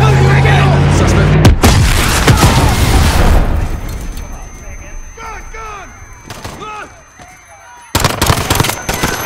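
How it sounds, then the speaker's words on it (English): A bomb detonates at Piccadilly Circus in Modern Warfare: a sudden loud blast, followed later by another heavy crashing burst, with shouting voices and scattered impacts in between. "There's been a detonation at Piccadilly Circus."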